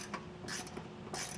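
A ratchet works a bracket bolt loose on a 2024 Ford Bronco during a Curt trailer hitch install, giving two quick bursts of rapid clicking close by with a quieter click between them.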